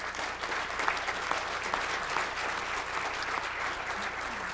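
An audience at a keynote talk on artificial intelligence claps steadily and continuously, a dense wash of applause filling the room without letting up.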